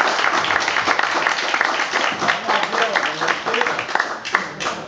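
An audience at an aquabike championship awards ceremony in Nova Kakhovka claps steadily for a few seconds, a dense patter of many hands at moderate volume.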